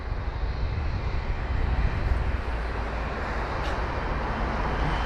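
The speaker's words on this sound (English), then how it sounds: "we've got a departure already. It's the A320 CEO" An Airbus A320ceo departing London Heathrow gives a loud, continuous jet engine roar. The broadband rumble holds steady across the whole stretch, with no voices.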